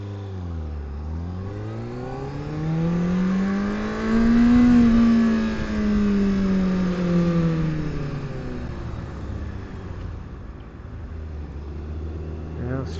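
A car accelerates up a freeway on-ramp, its engine note rising and falling through the gears, heard from inside the cabin, loud and steady before easing off near the end.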